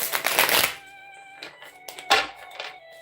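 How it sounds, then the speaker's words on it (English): A deck of intuitive clue cards is shuffled close up, giving a dense riffling burst at the start and a shorter flutter near the middle, with soft taps and quiet tonal music in the background. "Let me see if I can shuffle all of these together."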